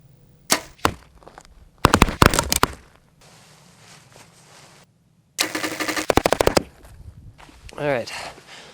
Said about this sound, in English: we're just gonna shoot the bows, make sure everything's dialed in